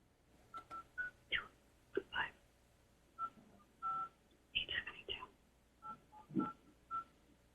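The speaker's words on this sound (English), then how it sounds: "she's dialing in to the instructions that are on the page right now" Telephone keypad tones from someone dialing into a virtual planning commission meeting: a quick, irregular series of short, clear beeps with brief pauses between them, heard close and fairly crisp.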